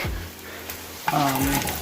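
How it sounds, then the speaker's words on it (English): Oil sizzles and crackles steadily as tomato and bacon pancake batter fries, with a brief clatter partway through as more is added to the pan. "we'll re-scoop 2 more pancakes in there and get them frying"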